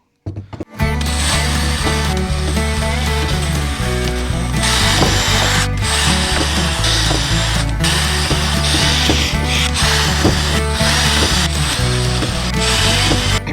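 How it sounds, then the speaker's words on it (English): A cordless drill whines loudly and steadily as it pre-drills holes in soft cedar wood, a close, continuous buzzing hum with brief dips. "I'm going to be pre-drilling all of our holes because cedar is such a soft wood"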